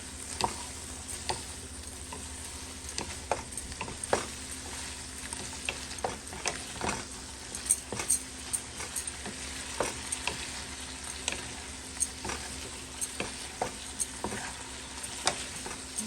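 Shrimp sizzle in a hot pan, a steady crackling fry punctuated by sharp clicks and taps of a utensil stirring and flipping them, close and fairly quiet with no voices.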